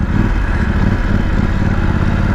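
Voge 900 DSX 2024 motorcycle engine droning loud and close during a test ride, steady mid-range roar with rattling clatter and no voices.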